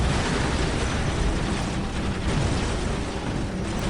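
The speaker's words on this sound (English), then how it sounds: "Nice orbital bomb there." Massive orbital bombardment in Dawn of War Soulstorm, a loud sustained roar of explosive rumble filling the whole stretch without a break.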